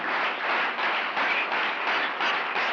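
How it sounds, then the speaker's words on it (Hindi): Loud, sustained applause from a worship congregation, a thick wash of many hands clapping at once with slight surges in intensity, no talking heard. "जोरदार तालियां"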